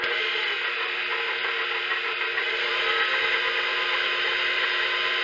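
An electric mixer kneads Italian bread dough with olive oil, giving a steady, continuous motor whir with a faint mechanical rattle, close and unbroken.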